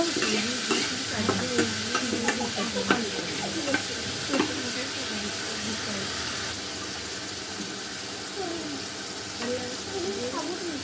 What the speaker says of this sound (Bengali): নতুন পেঁয়াজের পাতা দিয়ে আমি ডিমগুলো ভুনা করবো